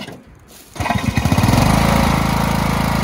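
A four-wheeler ATV engine catches after a quiet start, then settles into a loud, rapid, steady chugging idle close by.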